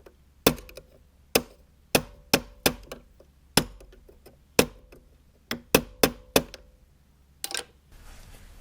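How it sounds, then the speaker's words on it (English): Sharp metallic hammer strikes ring out one at a time in an uneven rhythm, about fifteen blows, close and loud, bending a car's metal windshield wiper arm tab back into place. "we'll go ahead and hammer that back in"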